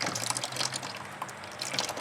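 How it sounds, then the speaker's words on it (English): Small portable camping water pump pushing water out in a truck camping setup, heard as a steady close splashing, gushing flow with faint mechanical hum underneath. "It just pumps the water out."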